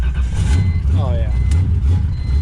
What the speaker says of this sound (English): cold starting the carburetor. I'm gonna let this thing warm up for a second